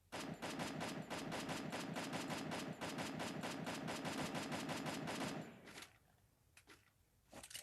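Pistol fire in Free Fire crackles in a rapid, evenly spaced string of loud shots for about five seconds, then drops to a few scattered quieter sounds.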